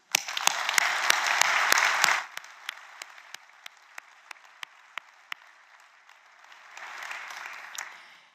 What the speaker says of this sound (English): give them a very strong word of applause